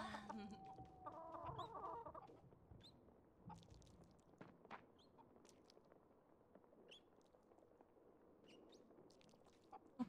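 A chicken in the Fae Farm video game clucks softly when petted, a few short clucks near the start over a quiet game background, followed by faint scattered clicks and ticks.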